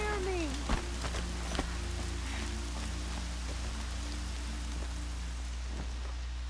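Rain falling in the video game Horizon Zero Dawn, a steady wash of hiss with a few sharp taps, heard under a low constant hum.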